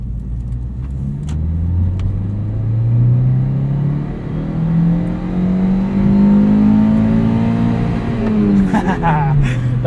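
Engine of a 2003 Toyota MR-2 Spyder with a 6-speed manual, heard from inside the car during a sunset drive, loud and close as it climbs steadily through the revs toward the limiter and then drops back after a gear change.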